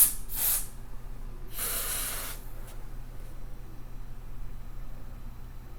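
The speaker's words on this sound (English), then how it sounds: "let's give it a shot of freeze spray" Short hissing bursts of freeze spray hit a chip on the circuit board of a lightning-damaged plasma TV, two quick blasts followed by a longer one, close and fairly quiet.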